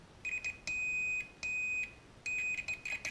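A continuity tester beeps while checking between a field strength meter's chassis and its wiring: a series of clear high electronic tones, some short and some held for about half a second, close and without speech.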